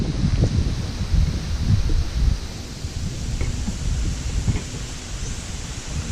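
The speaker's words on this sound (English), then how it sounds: "It's real windy out here." Wind gusting across an outdoor lawn, a loud steady rushing and buffeting that swells and eases throughout without speech.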